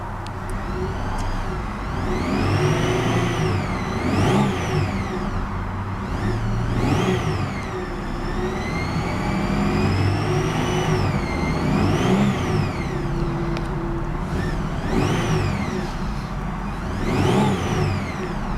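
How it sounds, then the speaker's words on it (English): The engine of a 1999 Chevrolet Malibu LS, which has an unidentified noise, revs repeatedly. Rising and falling whines with a rumbling undertone are heard close and fairly loud. "Can't figure out what that noise is coming from the engine."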